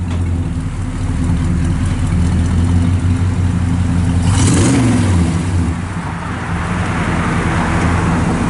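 A 1967 Chevrolet El Camino V8 fitted with Dynamax mufflers runs steadily close by, a deep rumbling drone with a brief swell of revving midway, no voices.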